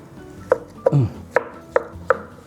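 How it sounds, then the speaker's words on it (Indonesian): A knife chops lontong rice cakes on a board in five sharp, evenly spaced strikes, close and distinct, with a brief rubbing scrape after the second. "langsung 5 kita potong-potong guys, biar cepet"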